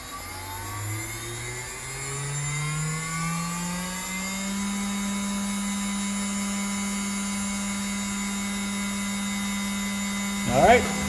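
A CNC machine spindle spins up with a rising electric whine that climbs steadily in pitch, then settles into a sustained high hum, loud and close, with a brief clatter near the end.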